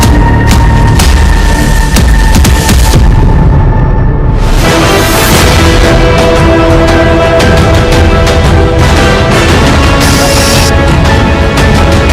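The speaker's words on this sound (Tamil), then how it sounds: "நடிகர் தனுஷின் படத்திற்காக வைக்கப்பட்ட வெடிகுண்டுகள் தான் இவை" Explosions set off for a film shoot in a tiger reserve produce a loud, sustained, distorted roar and rumble that fills the whole span without a break.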